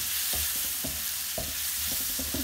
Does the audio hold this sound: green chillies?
yes